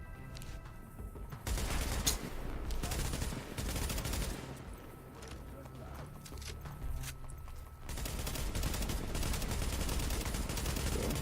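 Video game gunfire, rapid automatic bursts and clustered shots rattling continuously at moderate loudness, with dense layered reports and no talk over them.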